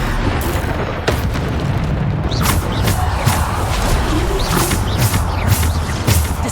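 Bombarda explosion spells in the game Hogwarts Legacy go off in loud repeated booms and bursts, one after another amid a dense, noisy battle.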